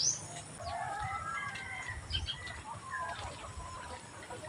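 Laying hens in a small backyard poultry coop cluck and call over a steady ambient hum, with a few soft wing flaps, moderately close and continuous with no clear talk.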